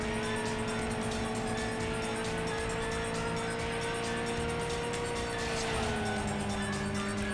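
In the PS2 racing game Tokyo Road Race, a car engine hums in a steady, sustained drone that shifts pitch slightly near the end, running continuously without speech.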